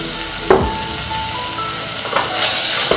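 Whole cumin, cardamom pods and a single star anise sizzle in hot oil in a pan, a steady close frying hiss broken by a few sharp scraping stirs, with no talking.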